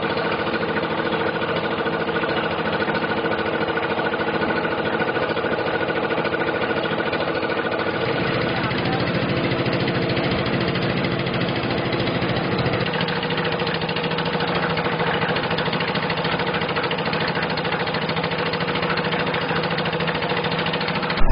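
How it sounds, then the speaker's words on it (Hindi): Tractor engines chug steadily outside a police station in broad daylight, a loud continuous mid-pitched diesel rumble that shifts in tone partway through as the machines pass. "दिन दहाड़े थाने के बाहर से होते हुए ट्रैक्टर गुजर रहे थे"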